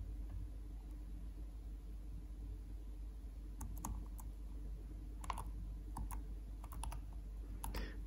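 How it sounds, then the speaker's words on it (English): Sparse keyboard key presses come in short clusters while flying a Windows CE flight simulator, with faint clicks over a constant low electronic hum. "I had forgotten how difficult it is to fly"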